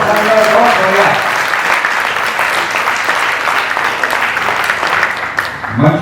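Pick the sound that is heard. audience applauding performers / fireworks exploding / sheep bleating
audience applauding performers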